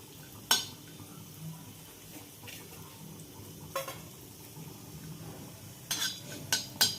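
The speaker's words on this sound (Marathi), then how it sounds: "एक छोटा चमचा तेल जे आहे ते गरम करून घ्यायचं आहे आणि त्याच्यामध्ये हा जो हिंग आहे तो फुलवून घ्यायचा व्यवस्थित" Lumps of asafoetida fry in a small spoonful of hot oil, a soft low sizzle under a few sharp clinks of a spoon or utensil against the pan.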